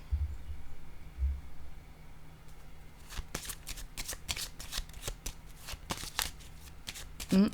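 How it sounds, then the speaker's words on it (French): Playing cards are handled and laid down on a surface, heard as a quiet series of soft, close flicks and taps that start after a few seconds of near silence and continue unevenly, with no voices. "Je vais déposer une autre carte ici."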